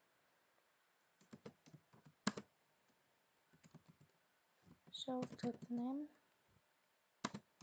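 Python code is tapped out on a computer keyboard in bursts of close, crisp keystrokes with pauses, while someone speaks briefly in the middle.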